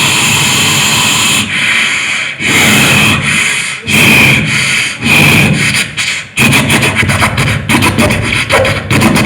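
A mimicry performer at a state school arts festival voices a diesel train, with loud breathy chugging bursts that start slow and uneven and then speed up into a fast, steady rhythmic clatter.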